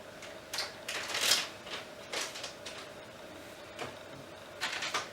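Camera TV cable for a Canon EOS 60D being unwrapped from its packaging, with several soft crinkling and rustling bursts spread unevenly through a quiet room, close by and faint.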